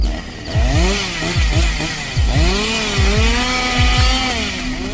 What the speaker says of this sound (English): That unmistakable sound, the chainsaw, roaring to life, cutting through the silence like a scream in the night